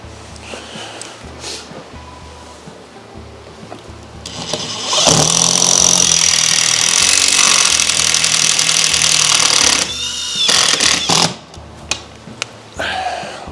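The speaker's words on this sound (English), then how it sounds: "that screw is good enough to hold this timber level while I put the other screws in" A power tool drives screws into a length of timber being fixed level for a garden tool rack in a garage, a loud sustained whirring burst of several seconds framed by shorter quieter bursts and handling knocks.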